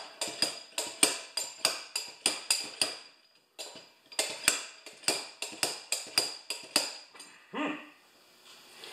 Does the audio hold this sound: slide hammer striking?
yes